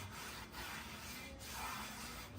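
A paper towel rubs residue from the inside of a mechanical brake drum, giving a quiet, continuous scraping and rubbing with slight pauses between strokes, no talk.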